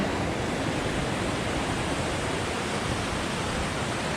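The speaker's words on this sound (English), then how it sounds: "There's a little waterfall at the end." A small waterfall spilling into deep granite rock pools at Baxter State Park, a loud, unbroken rushing roar heard up close with no voices over it.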